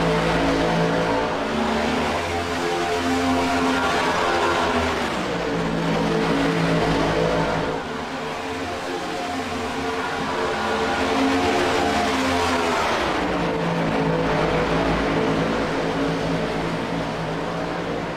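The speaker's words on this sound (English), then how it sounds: "These guys are fighting the car all the way around the track, trying to keep it full throttle and full send." Race cars at full throttle circling a track, a loud continuous engine roar that swells and shifts in pitch as the cars pass, heard from trackside with no talk.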